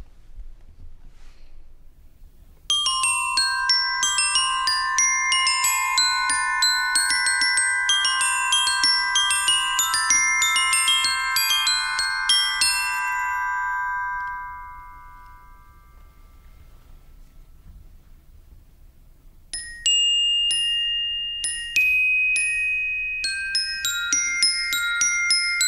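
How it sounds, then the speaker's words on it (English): Glockenspiel bells struck with hard mallets on steel bars ring out in two contrasting passages, a bright busy run of sustained tinkling notes, a pause as the ringing fades, then a sparser melodic phrase, played alone and clearly. "Bells, also called the glockenspiel, are an example from the pitch side of the percussion family."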